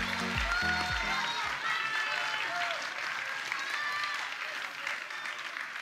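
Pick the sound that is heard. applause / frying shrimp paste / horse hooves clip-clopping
applause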